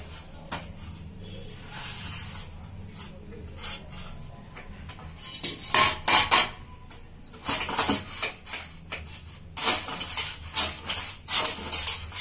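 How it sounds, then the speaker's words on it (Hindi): Potatoes sliced into chips on a chips cutter, a quiet start giving way to repeated rough scraping strokes in quick bursts, loud and close. "चिप्स काटने के लिए हमको चिप्स कटर चाहिए"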